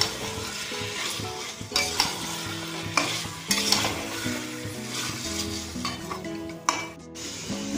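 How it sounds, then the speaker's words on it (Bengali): Chicken pieces are sautéed in a spice masala for a chicken patiala curry, with repeated metal spatula scrapes and clinks against the pan over a constant sizzle, close and busy, without speech. "এবার মাংসটা আমি একটু কষিয়ে নেব।"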